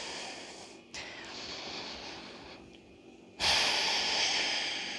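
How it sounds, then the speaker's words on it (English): A yoga practitioner's breathing, a soft airy breath followed by a sudden loud, forceful exhale near the end, close to the microphone, with no talking. "Exhale."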